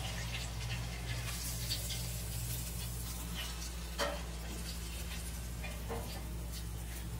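Cajun chicken tenders are lifted from hot frying oil, a quiet, even crackling sizzle running throughout with a low hum beneath and an occasional faint tap.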